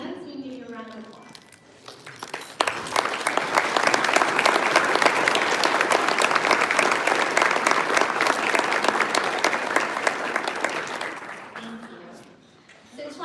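Applause from an audience at an economic development luncheon, a dense burst of clapping that swells quickly, holds strong for about nine seconds and then fades, with a few words of speech at the start and end.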